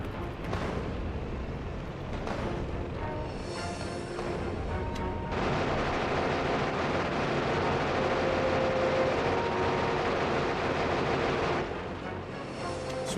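A tank's main cannon fires over and over in the Factorio video game, heavy booming blasts over a dense, continuous battle roar that swells loudly midway, with no speech.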